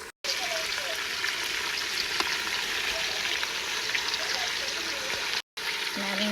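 Chicken curry sizzles and bubbles in a pot while being stirred, a steady close wet frying and sloshing sound running continuously with small clinks, cut briefly at the start and near the end.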